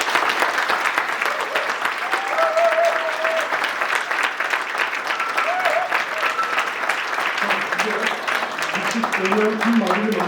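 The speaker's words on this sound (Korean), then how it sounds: "모두 뜨거운 박수를 보내주시기 바랍니다." An audience at a rowing club's 60th anniversary ceremony claps warmly and steadily for about ten seconds, a continuous dense applause with faint voices rising beneath it near the end.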